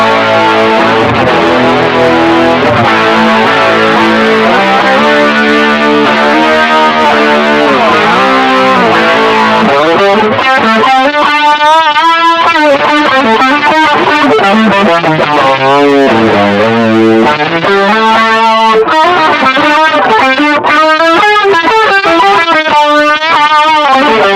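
Electric guitar with heavy distortion and a shimmering chorus effect from a Kokko chorus pedal, playing sustained chords and riffs continuously, loud and close with no voices.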